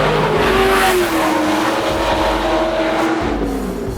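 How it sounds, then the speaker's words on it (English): A heavily modified Corvette engine roars loud and close, a harsh, sustained racing-car howl with rising and falling pitch and a slight tire squeal, with no talking. "That's loud, huh? Exactly like a Formula One car."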